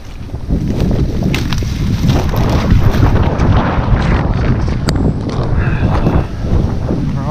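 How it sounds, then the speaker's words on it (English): Strong, gusty wind from an incoming front buffeting the microphone on a golf course, with a loud low rumble, continuous throughout, plus faint knocks and a few brief clicks. "that front is here and it is windy and cloudy"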